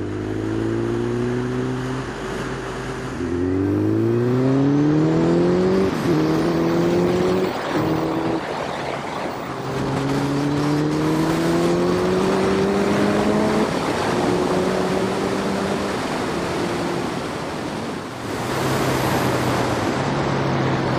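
A Suzuki GSX1400 motorcycle, sixteen years old, revs loudly while ridden over rough roads, its engine note rising and falling through repeated gear changes with steady wind rush.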